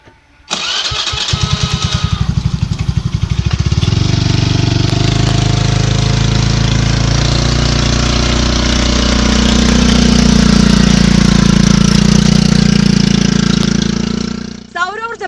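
A homemade three-seat vehicle running on solar power and petrol starts its petrol engine with a rapid sputter, then settles into a loud, steady running drone that swells near the end before cutting off.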